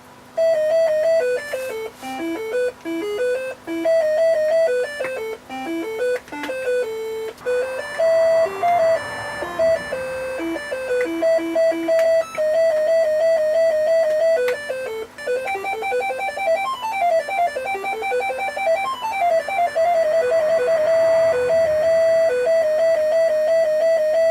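A Casio FA-1 calculator accessory plays a stored melody through a speaker, thin beeping electronic notes in quick succession, bright and mechanical, with a steady hum underneath.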